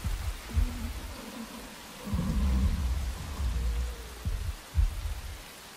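Rain falls steadily in a Godzilla King of the Monsters scene, a constant broadband hiss with low rumbling swells and a few deep thuds underneath, no voices.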